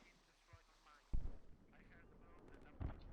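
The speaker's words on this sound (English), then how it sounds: "listening closely to the mortars that's being used" Mortar fire in Squad, two heavy low booms about two seconds apart that sound fairly distant, with a faint voice talking under the rumble.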